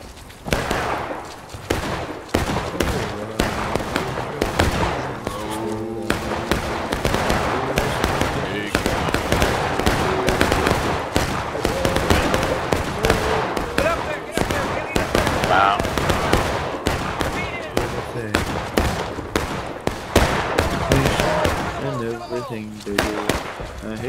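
Rifle fire from sharpshooters in a Civil War-era battle game crackles in rapid, irregular volleys, a dense stream of sharp close and distant shots under shouted voices.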